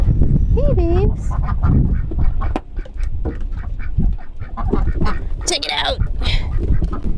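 Ducks and geese quack and honk in loud, repeated calls close by, with someone talking over and between them.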